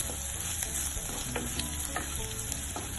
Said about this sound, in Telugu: ఎండుమిర్చి, దంచుకున్న జీలకర్ర, మిరియాలు, వెల్లుల్లి కొద్దిగా వేగనివ్వాలి.